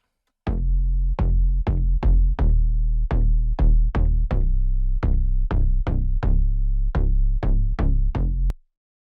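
Three-layer synth bass for a future house track: about eighteen loud, punchy notes in a steady rhythmic pattern with short decays, playing alone and stopping abruptly near the end.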